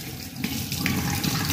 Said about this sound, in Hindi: बर्तन धो लो